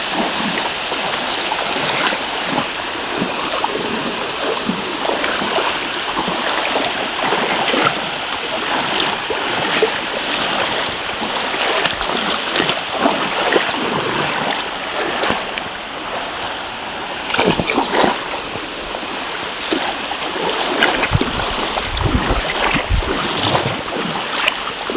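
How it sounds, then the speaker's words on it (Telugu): Water rushes at the Munjuluri waterfall near Kannapuram, a loud, steady broadband roar that continues throughout, with a few louder splashing bursts toward the end. "వాటర్ ఫాల్స్ వచ్చింది."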